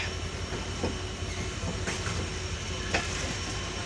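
Riding the Down Nilsagar Express at night, a steady roar of rolling wheels and rattling coaches fills the carriage, with occasional sharper clacks from the rail joints standing out above the constant rumble.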